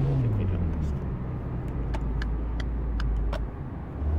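Steady low car engine drone from the City Car Driving simulator game, running continuously and fairly loud, with faint clicks and someone talking over it.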